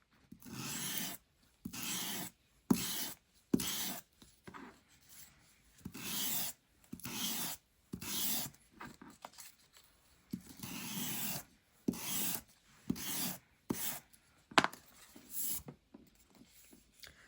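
Sandpaper rasps over stamped paper strips in short rhythmic strokes with brief pauses between them, giving them a grungy look, close and dry-sounding, with no talking.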